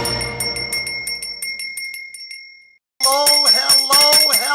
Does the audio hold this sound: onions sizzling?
no